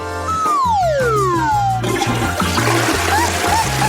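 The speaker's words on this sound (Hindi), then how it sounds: "तुमने इसे फ्लश क्यों किया?" A blue toilet flushes loudly up close, a rising gurgle that turns into a rushing, swirling drain of water that carries on to the end.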